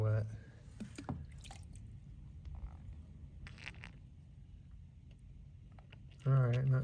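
Water splashes and drips onto a Texas agate geode, with short liquid spatters at the start and end and faint dripping and clicks between them.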